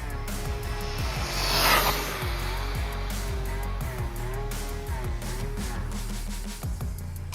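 1/14 scale Rlaarlo ROG1 RC car run at full throttle in a big open area, a faint, steady motor whine with repeated rumbling pulses from the ground, fairly distant with no talk.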